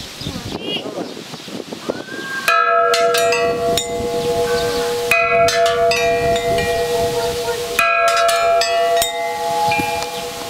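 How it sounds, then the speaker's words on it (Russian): Church bells ring out in loud bursts with sustained metallic tones, several strikes layered and overlapping, following a stretch of quiet rustling and murmuring. "давайте колокол бить"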